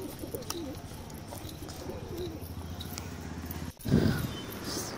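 Pigeons cooing softly in a loft, including a grandfather's 25-year-old birds, a low steady murmur of coos close by under faint background noise, with a brief rustle or flutter near the end.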